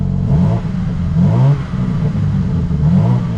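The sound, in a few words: 2024 BMW M2 engine revving with exhaust burbles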